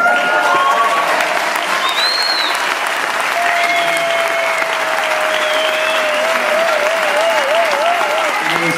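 Concert audience applause at a tribute show, loud and sustained clapping from a large crowd throughout, with faint whistles and cheers mixed in.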